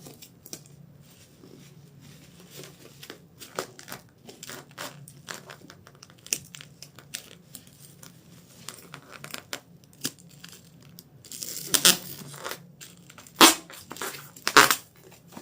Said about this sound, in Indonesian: Kita lakban lagi muter